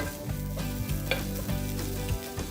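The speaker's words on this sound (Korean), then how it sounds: "여기에 해바라기유를 두르고 취나물을 넣어서 살짝 볶아줍니다" Aster greens (chwinamul) stir-fried in sunflower oil in a pan sizzle steadily and close up, with repeated soft scraping stirs and no voices.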